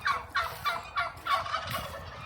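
Turkeys gobble on a farm at the end of the day in a run of about five rapid, burbling calls spaced roughly every third of a second. The calls are moderately loud, come from a short distance, and no one speaks.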